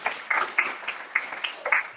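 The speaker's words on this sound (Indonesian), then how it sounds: "Beri tepuk tangan terbaik buat Tuhan Yesus Kristus" Church congregation claps during a Christian sermon, giving a sparse, uneven patter of hand claps in a rhythmic series of bursts at moderate level, fairly close, with no speech over them.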